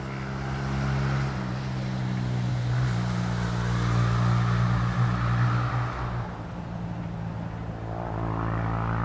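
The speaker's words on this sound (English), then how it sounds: "Sounds like a 125 to me." A 125cc motorbike passing along a bypass road, its engine drone swelling to a peak and then fading away, heard from the roadside.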